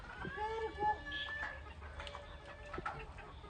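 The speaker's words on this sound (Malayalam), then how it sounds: "അതൊക്കെ അടയിരുന്ന കോഴിയാണ് ഇത്" A brooding hen clucks in low, broken murmurs with a few sharper calls, while a faint voice and background noise run underneath.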